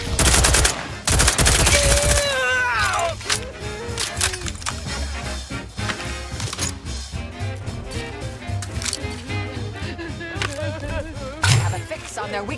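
Sci-fi gunfire in The Outer Worlds 2 opens with loud, rapid automatic bursts, then continues as scattered shots and impacts among battle noise. A voice briefly speaks near the start.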